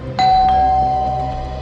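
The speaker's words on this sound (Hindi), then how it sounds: "दरवाजे की घंटी ने बचा लिया बच्चू।" A doorbell gives one clear, sustained electronic chime that rings loudly for about a second and then fades over a low indoor background.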